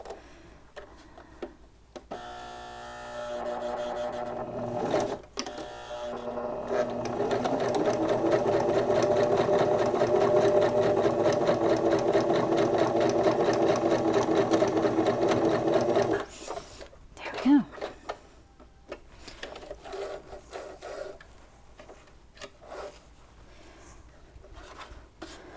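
A sewing machine stitches a short seam on a fabric Kindle sleeve, a steady, close mechanical whirring run of about ten seconds that starts and stops abruptly, framed by quiet handling sounds and a person talking.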